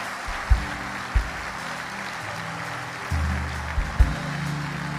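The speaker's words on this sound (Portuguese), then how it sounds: "Se eu fosse você, eu aplaudia mais forte." Scattered clapping from a church congregation at a Pentecostal-style service, moderately faint and sustained, punctuated by a few louder thumps.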